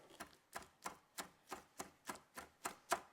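A knife minces a canned chipotle pepper in adobo sauce on a cutting board, about ten quick, evenly spaced chops, close and fairly quiet with no talking.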